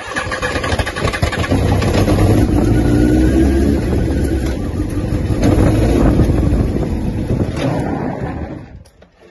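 A Honda CBR 929 RR motorcycle engine starts and revs, loud and close, with a steady powerful roar through most of the span before it drops away near the end.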